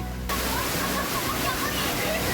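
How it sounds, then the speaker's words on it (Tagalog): Tungtong Falls, a waterfall in the Philippines, pours as a steady loud broadband rush of falling water with no pauses. "At ang malamig na agos ng tubig, deserve na enjoyin matapos mabilad sa araw."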